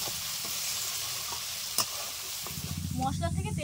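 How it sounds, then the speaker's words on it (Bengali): Salted, turmeric-spiced masala stirred and fried in oil over medium heat for a raw-egg curry, a steady soft sizzle with a brief spoon clink, then louder bubbling frying toward the end. "লবণ পরিমাণ মতো, হলুদ গুঁড়ো পরিমাণ মতো, মিডিয়াম আঁচে মশলা ভালো করে কষে নেব।"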